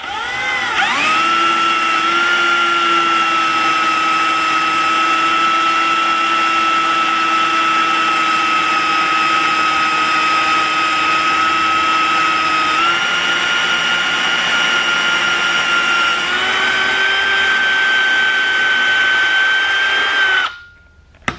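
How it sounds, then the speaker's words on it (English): A power drill runs at low speed while reaming a 68RFE transmission valve body, giving a steady, close whine that shifts pitch slightly partway through and stops abruptly at the end. "Then I'm just going to slowly get it in there, and then just start reaming."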